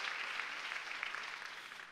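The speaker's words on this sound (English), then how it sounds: "Clap for Jesus." Church congregation applauds during a testimony, a steady, fairly faint patter of many hands clapping together without voices on top.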